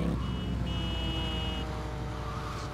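Harley motorcycle engine in GTA Liberty City Stories, a steady low droning rumble running continuously at moderate volume, with a brief whining tone layered on top.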